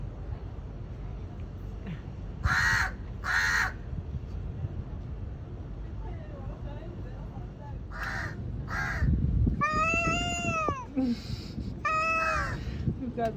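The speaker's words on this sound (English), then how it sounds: "You can hear the crow still going at it, and this cat's meowing." A crow caws in separate short bursts, two at a time, in Port Sudan. A domestic cat then lets out several drawn-out meows over low room noise and faint voices.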